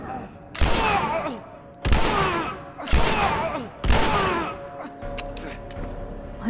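Gunfire in The Last of Us Remastered: four heavy, booming shots about a second apart, each with a ringing echo tail, followed by quieter metallic clicks and rattles.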